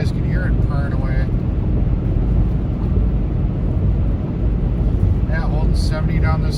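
Steady low engine drone of a truck engine braking down a long hill in fifth gear at about 70, heavy wind and road roar filling the cab, with someone talking briefly over it near the start and end.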